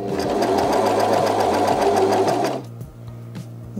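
An overlock machine stitches a knit cuff in a circle with a fast, steady mechanical whir and rhythmic needle chatter that runs loud and close, then slows to a few softer clicks as it stops.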